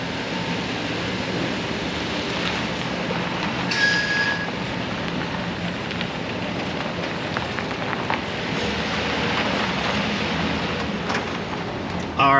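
Steady, continuous road rumble from inside a truck on a test drive, with a low, even drone and a brief high squeal partway through; no talking.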